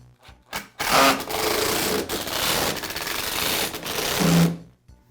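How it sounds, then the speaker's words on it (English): A power driver buzzes as screws are driven to secure the switch housing on a Black & Decker electric mower, with a few short starts followed by a steady, close whirring run of several seconds that then stops. "And I'll secure this with the screws."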